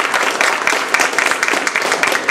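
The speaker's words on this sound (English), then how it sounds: "I'd like to give a round of applause once again to those of you who were the evaluation contestants." An audience at a district speech evaluation contest claps steadily and densely, a sustained round of applause filling the room from start to finish.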